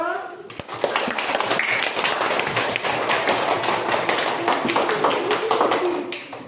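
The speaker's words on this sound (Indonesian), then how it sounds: "Ya, beri tepuk tangan dulu." A class of schoolchildren claps in applause, a dense, loud patter of many hands that runs steadily and fades near the end, with a voice speaking briefly at the start.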